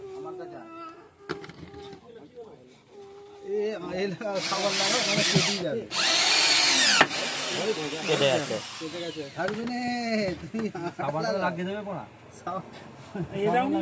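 A power drill boring into the plywood of a speaker box, whirring in bursts of rising and falling pitch across the clip, loud and close, with people talking over it.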